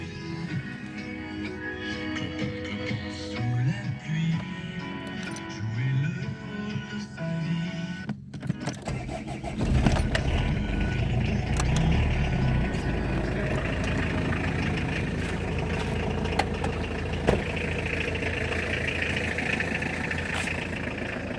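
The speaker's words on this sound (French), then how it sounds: "Je démarre la bagnole, comme ça elle sera chaude." A Citroën C25 Dangel van in a barn: a steady low engine idle with a whirring whine at first, then after a brief dropout a rougher, louder running drone continues steadily.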